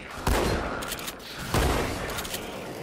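Assault rifle fire in Halo 4, two loud bursts of rapid shots about a second apart, each followed by a short ringing decay.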